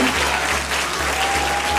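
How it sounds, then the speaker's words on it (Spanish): A crowd at a radio station anniversary celebration breaks into loud, dense applause, a steady roar of clapping that fills the short stretch without a break. "Un fuerte aplauso para todos."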